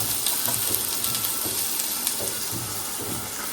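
Coriander, green chilli and curry leaves dropped into hot oil together, giving a loud, close, spitting sizzle with sharp crackles and pops throughout.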